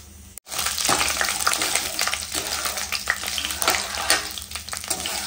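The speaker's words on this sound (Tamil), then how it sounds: "கொஞ்சமா எண்ணெய் ஊற்றி கடுகு வந்து போட்டுக்கிறேன்" Mustard seeds, chana dal and urad dal fry in hot coconut oil with a dense, crackling sizzle that starts abruptly and stays loud and close, with small pops scattered throughout.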